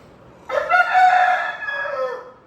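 A single loud rooster crow, close by, rising and holding for about two seconds before trailing off.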